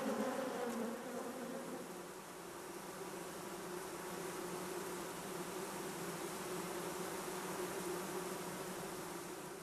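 A honeybee colony hums with a dense, steady buzzing of many bees, close and continuous without pause.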